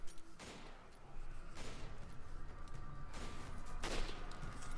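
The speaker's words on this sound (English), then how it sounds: "see if I can take as many guys as I can with the sniper rifle" Sniper rifle shots fired from cover at enemies in Resident Evil 5: about four sharp, spaced cracks over a low, steady background of combat ambience.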